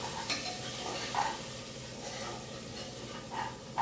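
Spices and coriander powder frying in a hot pan with turmeric, red chilli and garam masala, a steady low sizzle with occasional scraping stirs, close and moderately quiet, no talking.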